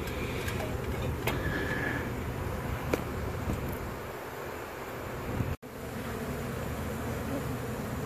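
Steady hum of honeybees buzzing around a hive in a tree in Tampa, Florida, a dense continuous drone with outdoor background noise and a few brief knocks.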